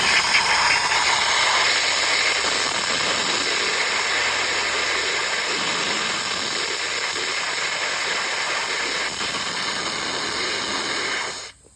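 Injector running on a 1973 steam engine during start-up, a continuous loud steady hiss with engine rumble underneath, unbroken for several seconds before cutting off abruptly at the end.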